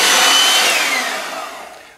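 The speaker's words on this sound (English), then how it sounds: "using that electric mixer, we're just going to beat this together again until it's nice and pale and yellow" An electric mixer beats egg yolks with sugar for sponge finger biscuits, giving a loud, steady whirring hum that slowly fades over two seconds.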